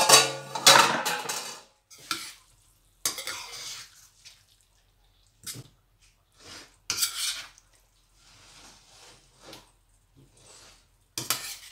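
Potato keema curry being spooned out of a cooking pot, with scattered bursts of metal spoon scraping and clinking against the pot, separated by quiet gaps.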